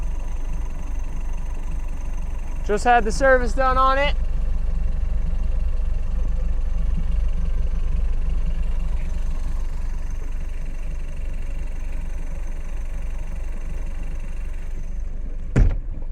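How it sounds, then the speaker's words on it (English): A 2013 Tahoe Q4 boat's Mercruiser 3.0 MPI engine idles with a steady low drone throughout, while someone speaks briefly near the start and a short knock lands near the end. "We got the engine running here on this 2013 Tahoe Q4."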